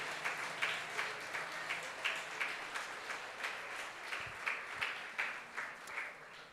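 A church congregation applauds during a baptism service, steady moderate clapping from many hands that keeps going evenly and sounds somewhat distant in a large room.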